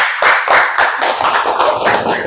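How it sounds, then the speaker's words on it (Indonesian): A class of students claps their hands together in a classroom, a dense burst of close, loud clapping that holds steady throughout with no speech over it. "Boleh tepuk tangan."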